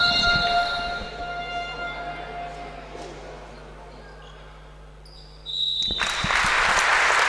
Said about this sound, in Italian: L'applauso del Palamellano che scioglie il minuto di silenzio in memoria delle vittime di Parigi.